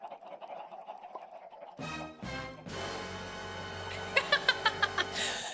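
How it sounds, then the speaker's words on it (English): Chickens clucking in Minecraft, a run of short evenly spaced clucks near the end over a dense bed of game music or ambience, with chatter and laughter before it. "Look at all the chickens."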